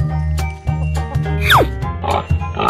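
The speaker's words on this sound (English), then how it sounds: "pig," A pig grunts and oinks in a string of short, rough snorts, close and fairly loud, with a brief squeal-like sweep in the middle and no talk.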